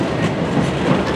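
A CSX freight train rolls through a railroad crossing at close range, its wagons producing a loud, steady rumble with rhythmic clickety-clack from the wheels, unbroken for the whole moment and with no voices over it.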